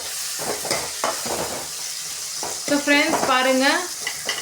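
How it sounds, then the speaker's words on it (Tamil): Tomatoes and onions sauté in a pan for a sankara fish curry, giving a steady close sizzle with stirring scrapes while a voice talks over the second half. "நம்ம தக்காளி வந்து நம்ம போட்டுட்டு நல்லா வதக்கி விட்டுக்கலாம்"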